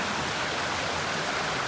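A Northern California creek flowing steadily, a constant close wash of rushing water with no breaks and no voices.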